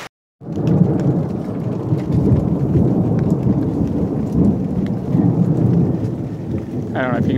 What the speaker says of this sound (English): That thunder had been roaring like for almost 30 seconds.